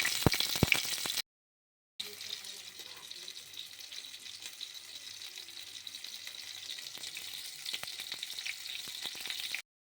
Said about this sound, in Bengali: ভাজা হয়ে গেলে আমি তোমার সাথে আবার ফিরে আসছি।